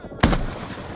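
A single sharp sniper shot in a night battle video game, one loud close crack with a short booming tail fading out within a second, no talking.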